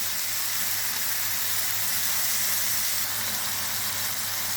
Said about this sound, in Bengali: মশলাটা ভেজে নিচ্ছি একটু ভাজা ভাজা হয়ে গেলে দইটা দিয়ে দেবো